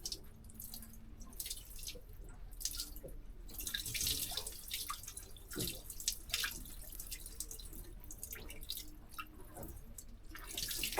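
Water drips and trickles out of the opened raw water pump on a Yanmar 4JH4E marine diesel engine, faint irregular splashes and drips close by with no talking.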